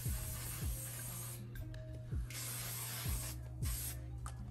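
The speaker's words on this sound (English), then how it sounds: "you wanna get your oil sheen and just spray it" Oil sheen sprays onto styled hair in short hissing bursts, about five quick spritzes close to the microphone against a steady low background hum, with no talking.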